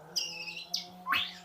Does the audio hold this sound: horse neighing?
no